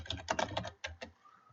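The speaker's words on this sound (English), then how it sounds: "I just want to type real fast a thank you" Rapid bursts of typing on a computer keyboard, a quick flurry of close, crisp key clicks followed by a couple of isolated taps, heard alone.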